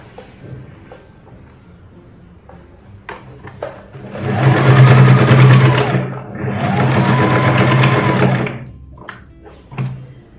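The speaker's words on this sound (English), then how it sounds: "Now place the elastic and make a stitch to secure it." A sewing machine stitches elastic onto silk palazzo pants in two close, loud bursts of rapid whirring, with quieter handling clicks and thumps before and after.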